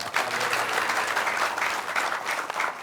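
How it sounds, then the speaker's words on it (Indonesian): An audience at a gathering of sugarcane farmers applauds a minister, with dense, steady clapping that fills about three seconds. "Tepuk tangan untuk Pak Menteri."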